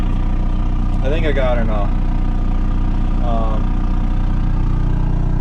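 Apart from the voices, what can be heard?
crop sprayer engine idling, not revved up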